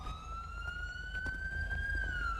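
A police car siren in a GTA RP video game sweeps in a steady wail, up and then slowly down, over low rumble and faint clicks.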